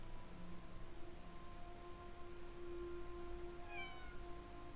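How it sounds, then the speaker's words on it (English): A faint cat meows once from inside a box in the video game The Talos Principle, muffled and distant, over a low steady hum and background tones. "there's a sound of meowing emitting from this box"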